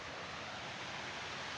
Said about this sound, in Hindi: आवाज़ सुन सकते हैं आप नाले की, किस तरह से ज़ोरदार पानी यहाँ से जा रहा है